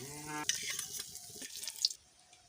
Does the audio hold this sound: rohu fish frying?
yes